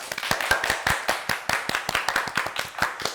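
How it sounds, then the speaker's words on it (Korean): A small audience claps at a Korean civic education talk, with steady, distinct individual claps in an uneven rhythm, fairly close and without talk. "박수 한번 더 주세요."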